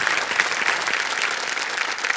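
Dense, steady applause from a studio audience on a televised quiz show, close and sustained without a break, with no voices over it.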